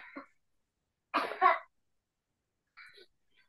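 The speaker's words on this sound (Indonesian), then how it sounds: "saya batuk udah 2 minggu" A person with a cough that has lasted two weeks coughs in a few short, separate bursts, with a double cough in the middle and brief silences between them, close to the microphone.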